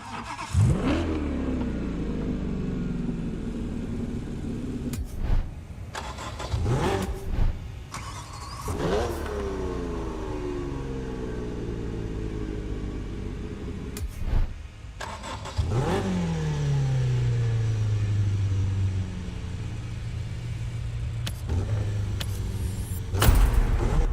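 A car engine in The Crew Motorfest racing game repeatedly revs up and winds down in a series of roaring accelerations, with sharp gear-change cuts and a sustained high whine midway, loud and close with no talk.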